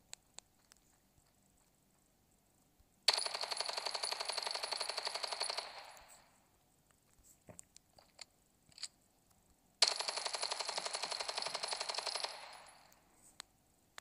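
A gun in the mobile shooter game Standoff 2 fires two sustained automatic bursts, each a loud rapid rattle lasting about two and a half seconds, separated by quiet stretches with faint clicks.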